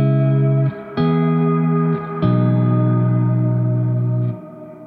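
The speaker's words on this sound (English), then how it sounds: "it's kind of like a long decay, reverby delay thing, and it's got spring elements to it" A Game Changer Audio Light Pedal gives sustained, spring-flavored reverb and delay to held guitar tones, loud and close. The notes change several times and each one swells into a long, shimmering decay, with no voices.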